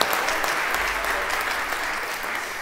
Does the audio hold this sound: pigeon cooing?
no